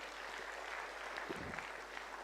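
A large audience applauding in a hall during a medical wing programme at Gyan Sarovar, Mount Abu, heard as a steady, fairly distant wash of clapping throughout with no speech.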